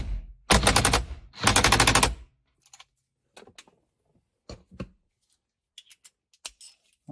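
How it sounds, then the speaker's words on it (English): A wrench tightens the nut on a 2010-2015 Lexus RX350/RX450h wiper and signal switch assembly, with two loud bursts of rapid ratcheting clicks followed by sparse, faint single clicks and taps. "And tighten the nut to 37 foot-pounds."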